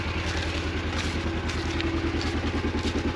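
A 2024 Kawasaki Mule PRO-FXT 1000 Platinum Ranch Edition utility vehicle with a 999cc engine idles close by, a steady low rumble with even pulsing and no talk over it.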